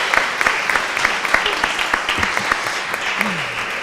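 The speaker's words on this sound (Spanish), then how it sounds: "Vamos a darle un aplauso a vuestro libro." Audience applause for a book at a literary presentation, a steady wash of clapping with sharp individual claps throughout and brief voice fragments underneath.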